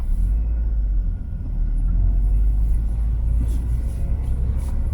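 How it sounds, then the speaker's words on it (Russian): A Honda FR-V car engine rumbles loudly from inside the cabin as the car pulls away, a deep, steady low drone with slight rise and fall and faint higher noises on top. "Включаем зажигание, запуск, отпускаем наш авиационный ручник, ну и поехали потихоньку."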